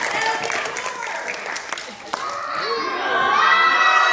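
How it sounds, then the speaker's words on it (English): An audience claps and cheers for a children's performance group called the Wild Things, with dense applause, excited kids' shouts and voices talking over it, growing louder toward the end. "Let's give the Wild Things a round of applause."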